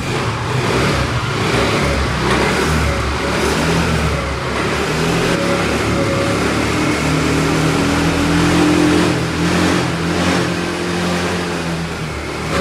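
A TVS Jupiter scooter engine, one that has been leaking petrol, runs loud and steady up close after starting and is revved in a few gentle rises and falls.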